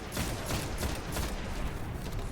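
Scout rifle firing explosive rounds in the video game Destiny: Rise of Iron, a dense, steady barrage of gunfire and blasts with sharp cracks popping through a continuous loud wash.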